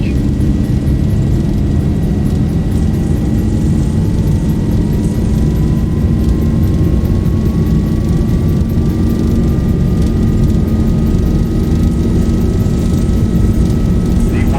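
Simulated Boeing 737-800 takeoff roll in X-Plane 11, a loud continuous engine roar and rumble with a rising whine as the jet accelerates down the runway, with talking over it.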